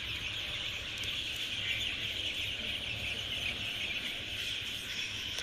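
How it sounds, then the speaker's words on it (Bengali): Broiler chicken chicks in a farm shed keep up a dense, continuous chorus of high cheeping, many birds at once, steady and moderately quiet with no gaps. "দেখুন আমাদের ব্রয়লার মুরগির বাচ্চা।"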